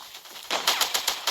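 Rapid bursts of automatic gunfire from the video game Strike Ops, about six sharp shots in quick rhythm, fairly loud and close with no talking over them.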